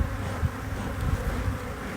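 Dense, steady hum of many honeybees buzzing inside a crowded beehive, close and continuous with no voices.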